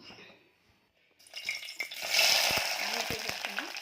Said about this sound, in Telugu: ఆనియన్ ఫ్రై అవుతుంది కదా.